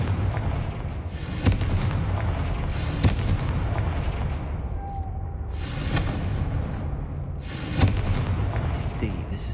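Repeated booming blasts from the Confringo spell in Hogwarts Legacy, dull explosions striking every couple of seconds over a rumbling game soundscape.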